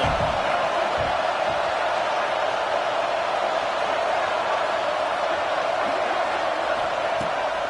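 A football video game stadium crowd roars steadily as the defense tries for a stop in the red zone, a dense, unbroken wash of cheering that holds at an even level throughout.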